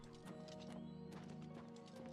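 Horse hooves clip-clop in the video game Oblivion Remastered, a steady rhythmic trot under a constant game music bed, with an occasional whinny.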